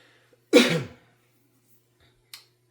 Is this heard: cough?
yes